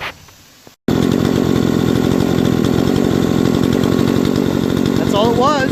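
A Remington RM-4620 20-inch gas chainsaw, which will not idle, is running. A brief quiet moment is followed by a loud, steady, buzzing roar at high throttle, with a voice speaking faintly over it.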